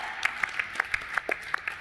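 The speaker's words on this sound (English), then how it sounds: "clap it up for our friend here" Sparse clapping from a small group, about a dozen distinct sharp claps in an uneven rhythm.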